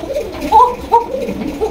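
An Archangel pigeon gives soft, close coos, three or four short throaty calls spaced unevenly over a low background hum.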